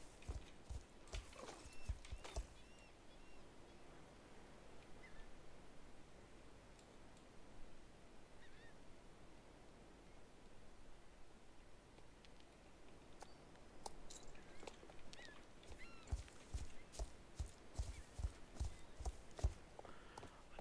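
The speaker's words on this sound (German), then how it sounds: "Dann reiten wir ganz gemächlich unten lang." A horse walking at a leisurely pace on a ride, its hooves clip-clopping in a steady, fairly close rhythm over quiet outdoor background, the hoofbeats most distinct at the start and toward the end.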